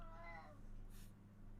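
A pet cat meows indoors, one clear drawn-out meow at the start followed by a faint hiss-like breath, over a steady low room hum.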